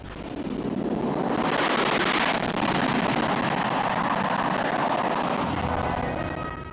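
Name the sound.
C-17 and Sukhoi 30 military aircraft flying in formation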